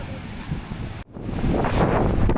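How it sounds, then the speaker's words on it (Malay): Rough sea with crashing waves and strong wind buffeting the microphone, a roaring wash that drops out briefly then surges back louder; no speech. "Laut yang bergelora."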